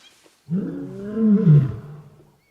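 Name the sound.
lions roaring at close distance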